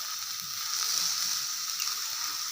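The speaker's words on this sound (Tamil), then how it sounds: "இப்போ இதில் நம்ம சிக்கன் வச்சுருக்கிறத இதில் போட்டு ஒரு வதக்கிடலாம்." Chicken sautéing in a pan makes a continuous hissing sizzle at moderate volume, with light scraping and clicking from stirring mixed in.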